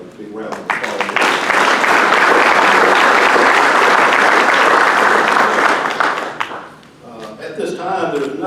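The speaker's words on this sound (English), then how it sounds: "let's give everybody a big round of applause." A meeting audience breaks into loud, sustained applause that swells quickly, holds for several seconds, then fades out, followed by a few scattered claps and murmurs.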